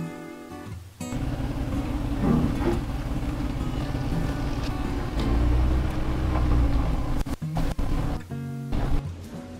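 A pickup truck rolls into a home driveway, its engine a steady low rumble that rises and holds close by for several seconds, with faint rattles and clicks near the end.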